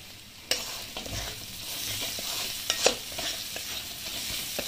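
Spiced masala with chilli, coriander and cumin powders and a splash of water sizzles and is stirred in a pan for a snakehead (shol) fish curry, with steady frying hiss and a few sharp scrapes of the spoon, no talking.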